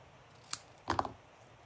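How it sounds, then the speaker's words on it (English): Scissors trim a paper card in a few quick, close snips, a brief single cut followed by a double snip, in an otherwise quiet room. "Let's trim this off."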